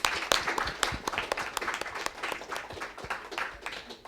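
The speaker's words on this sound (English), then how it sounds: "Please give applause for her." Audience at a soil health and carbon sequestration session applauding a speaker, moderate sustained clapping with sharp individual claps, fading slightly toward the end.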